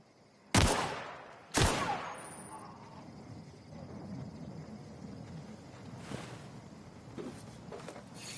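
Two loud, sharp gunshots about a second apart in the sci-fi game Outer Worlds, close and punchy, followed by low ambient rumble and a couple of fainter distant cracks.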